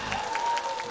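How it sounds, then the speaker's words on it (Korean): Audience applause at a Korean singing class (노래교실) steadily fills the moment, a continuous wash of clapping at moderate level with faint crowd noise and no speech. "박수"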